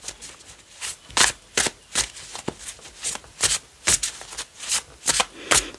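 Tarot cards shuffled by hand, a run of about a dozen crisp riffling bursts in an uneven rhythm, close and clear, with quiet gaps between them and no speech.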